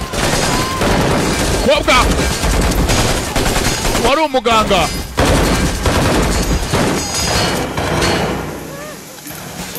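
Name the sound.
gunfire in action movie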